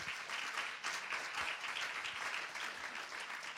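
Audience applause fills a room in a dense, even wash of clapping, moderately distant and steady for its whole length, with no speech over it.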